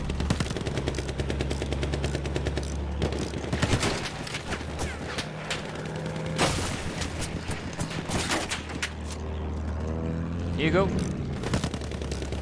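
Rapid machine gun fire in the Battlefield 1 video game, loud dense bursts overlapping with other gunfire and battle noise, with a voice speaking briefly.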